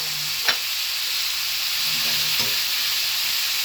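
Vegetables with red onion frying in a pan while being stirred, a steady loud sizzle throughout, with a few soft scrapes and knocks of the utensil against the pan.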